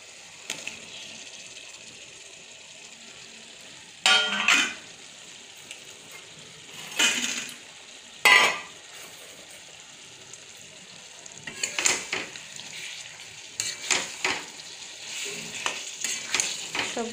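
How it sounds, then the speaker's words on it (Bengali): Fried potato and pointed gourd sizzle as they are sautéed in a pan, a steady frying hiss broken by several sharp bursts of stirring and spatula scrapes at irregular intervals. "এবার আমি এই ভাজা আলু পটল এগুলোও দিয়ে দেবো, একসাথেই কষানো হয়ে যাবে"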